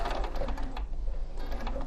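A sewing machine stitches a side seam on pyjamas, running forward a stitch and then back a stitch to secure it, with a steady mechanical rattle of needle strikes up close and no talking.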